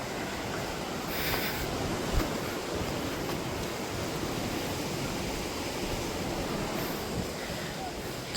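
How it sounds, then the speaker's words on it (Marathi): Sea waves wash steadily along the rocky Konkan coast in Sindhudurg, a broad continuous roar of surf with wind noise, heard fairly close and without talk. "आणि हा समुद्र बघा."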